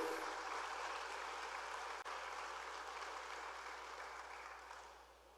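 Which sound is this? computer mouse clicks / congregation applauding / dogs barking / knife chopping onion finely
congregation applauding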